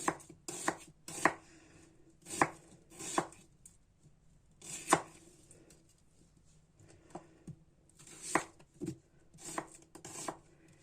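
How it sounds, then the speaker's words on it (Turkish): Rapid knife chops on a cutting board come in short irregular bursts, crisp and close, with quiet pauses between them. "Şimdi sebzelerimi doğruyorum."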